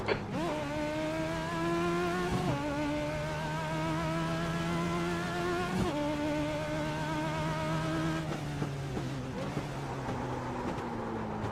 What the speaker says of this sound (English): It sounds so cool when a car on the other side of the wall is hitting us.